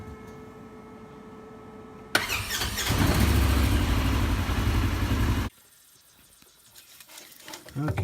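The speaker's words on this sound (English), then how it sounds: "And now we're going to start it, and then we're going to" A Polaris 900 XP UTV engine cranks and catches suddenly, then idles loud and steady nearby for about three seconds before cutting off to quiet background clicks.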